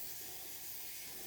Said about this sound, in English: I'm just going to spray them all off with some brake clean.